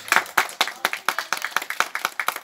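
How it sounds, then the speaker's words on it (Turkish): A group of students claps for a performer, a brisk run of individual hand claps close by, slightly uneven in rhythm, lasting a couple of seconds with no talking. "Şimdi sanatçımıza bir alkış çalalım."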